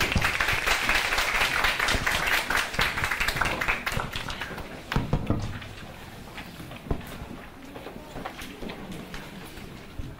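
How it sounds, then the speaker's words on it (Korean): An audience at an education conference session claps in welcome for a Tokyo University professor. The applause is dense at first, then fades into a few scattered, lighter claps. "박수로 환영해 주시기 바랍니다."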